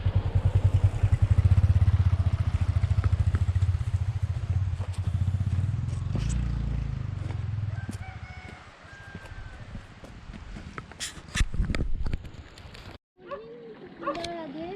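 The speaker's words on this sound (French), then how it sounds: "Moto, attention, moto," Motorcycle passing on a trail near rice terraces, a loud rumbling engine close at first that fades away after several seconds, followed by outdoor rustle and people talking.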